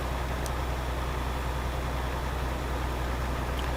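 A truck engine in Euro Truck Simulator 2 hums in a steady, unbroken low drone, moderately loud and close, with no change in pitch and no voices.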